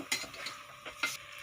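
Mutton with ginger garlic paste sizzles quietly in a pan, with a few soft stirring scrapes and utensil clinks standing out over a faint, steady frying hiss.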